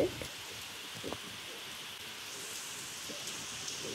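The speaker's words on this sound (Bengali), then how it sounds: "এসে দেখি ভীষণ বৃষ্টি হচ্ছে, পুরো ঝড় হচ্ছে" Heavy rain falls during a storm as a steady, faint, even wash of patter, with a few small knocks early on and no clear talking.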